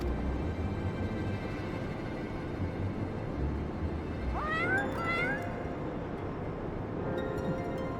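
A cat meows twice in quick succession in Final Fantasy XIV Heavensward, the short calls rising over a steady low ambient hum with no other sounds.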